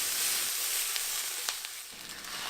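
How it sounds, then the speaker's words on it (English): Onions, peppers and spice mix sizzle steadily in a pan while being stirred, a continuous close frying hiss broken by a few soft scrapes, with no voices. "At this point, we'll add in our spice mix and give it a nice stir for a few seconds."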